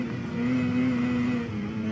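A Mazda RX-7 driven in a Forza touge race, a steady, close engine drone holding a fairly constant pitch with a slight rise and fall as it runs along the mountain road.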